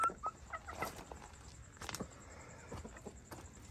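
Hens clucking on a game farm, soft scattered clucks and short calls at a moderate distance over faint outdoor background noise.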